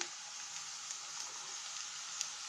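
Zucchini frying with other vegetables in a pan gives a steady, even sizzle with faint crackles, continuous and moderately close, with no talking.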